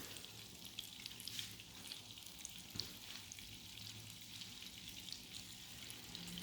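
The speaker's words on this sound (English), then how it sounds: "You can hear the sizzle." Breaded mock chicken (city chicken) sizzles in an electric skillet, giving a steady, quiet frying crackle with scattered small pops throughout.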